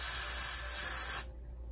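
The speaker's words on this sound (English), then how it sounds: "I spray this" A hair product spray gives one steady, close hiss lasting just over a second, then cuts off into quiet room tone.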